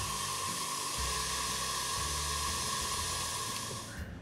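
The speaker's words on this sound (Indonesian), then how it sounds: "ini kita kocok di kecepatan tinggi" An electric mixer with a chilled whisk attachment whips cold whipping cream at high speed, a steady dense whirring roar with a constant hum that fades slightly at the end, heard alone without talking.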